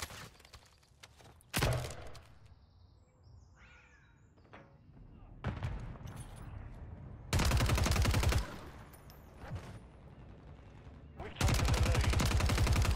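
Gunfire in the video game Modern Warfare 3 from the Cognizant Rebel Blackcell weapon: loud sustained bursts at several points, split by quieter stretches of distant shots and game noise, with voices talking over parts of it.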